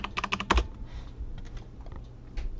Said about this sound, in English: let's just type LastPass in the Google search page